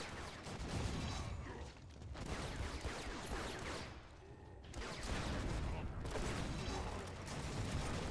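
Dynamite explosions crackle in rapid, overlapping bursts during Orcs Must Die! Unchained gameplay, a dense continuous barrage of booms and rattling with brief dips, loud and busy.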